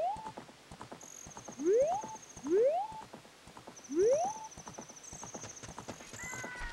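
The horse Epona from the video game The Legend of Zelda: Ocarina of Time gallops with a quick, steady clip-clop of hooves and lets out three rising whinnies, with chiming game sounds layered over the hoofbeats.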